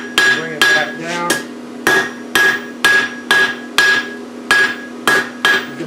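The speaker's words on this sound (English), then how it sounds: "I'm lightening up my hammer blows but still using the corner as my fullering" Rhythmic hammer blows on an anvil while forging and fullering a heart hook, about a dozen loud ringing strikes in steady succession, each with a bright metallic ring.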